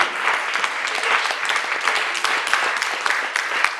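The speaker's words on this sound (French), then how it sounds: "Acclamons réellement la parole de Dieu." A church congregation applauds and acclaims together, steady loud clapping with scattered cheering throughout.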